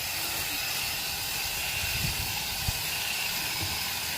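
Viper foam gun spraying coil cleaner onto a single-wall condenser coil, a steady close hiss that continues without a break.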